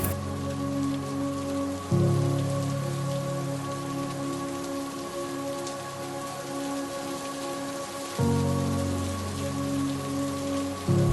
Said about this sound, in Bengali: সেই ফিল্ডে পাইছি বৃষ্টি হচ্ছে